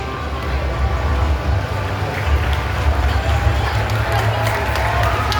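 Crowd at a student election rally welcomes Central Board candidates onto the stage with applause and cheering, a loud continuous roar of clapping and voices over a low rumbling hum.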